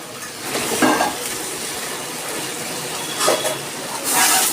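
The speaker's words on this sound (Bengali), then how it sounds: "দিচ্ছি একটু লঙ্কা গুঁড়ো এবার দিচ্ছি একটুখানি জল" A splash of water goes into hot spices and chilli powder in a pan, setting off a steady loud sizzle with a few bursts of stirring and scraping, no one talking.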